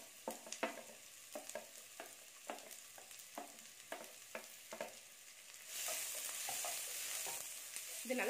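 Two finely chopped large onions sauté in three spoons of hot oil, giving a continuous sizzle with rhythmic spoon scrapes against the pan; the frying grows louder and denser toward the end.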